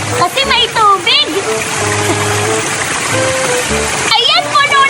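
Water splashes and sloshes steadily at close range as a water gun is filled near a slide, while a voice chatters over it, with a few brief pauses in the splashing.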